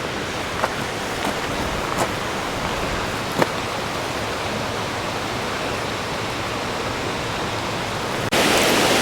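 Bridal Veil Falls near Vancouver in winter pours as a steady broadband roar, continuous and fairly loud, with a few faint clicks and a sudden rise in intensity near the end.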